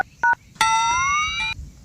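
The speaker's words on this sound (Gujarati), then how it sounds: "એ રણુદા, ફોન જાય છે હો" A phone is dialed, giving a few electronic keypad tones: two short beeps followed by one longer steady tone, clear against a quiet background.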